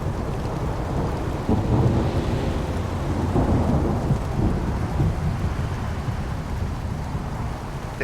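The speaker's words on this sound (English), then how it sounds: "thunder." A video game thunderstorm: heavy rain pours steadily while deep thunder rumbles and rolls throughout, close and loud, with no talking.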